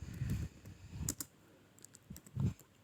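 Someone types a word on a computer keyboard, producing a handful of light, quick key clicks in small bursts alongside some low thumps, close by and fairly quiet, with no speech.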